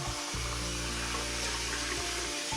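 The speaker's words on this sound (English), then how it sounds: "put some more hot water in my container." Hot water pours steadily into a shaving container for wet shaving with Gillette blades, a loud, continuous close splash and gurgle that shifts slightly in pitch as it fills, with no talking.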